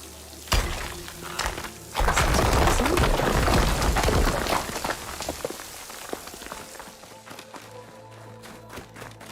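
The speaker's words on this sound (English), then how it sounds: "The water's flowing into the wall." Water pours and splashes into a wall near a waterfall in the game Horizon Forbidden West, a loud rushing spray that starts abruptly, holds for several seconds, then thins to scattered drips and a low hum.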